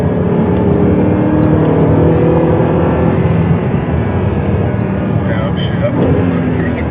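An Audi R8 on a racetrack powers out of a corner, its engine a steady loud drone heard from inside the car, with someone talking over it.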